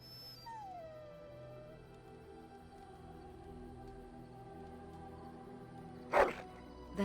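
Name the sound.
dog barking and howling, from the video game Dragon Age: Origins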